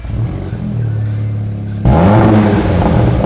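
An Audi TT with a custom valved exhaust idles with a low rumble, then snaps into a loud, sharp rev that climbs and holds near the microphone, with no talking.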